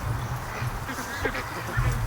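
Muscovy ducks calling around a duck barn on a rainy day, low husky sounds repeating steadily close by with a couple of louder bursts.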